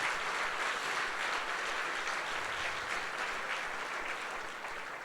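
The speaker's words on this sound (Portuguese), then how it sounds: "Quem crê e recebe, dá um aplauso aí ao Senhor Jesus." At a Sunday church service, a congregation gives a soft, somewhat distant round of applause that holds steady before thinning slightly toward the end.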